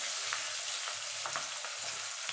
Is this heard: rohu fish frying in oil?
yes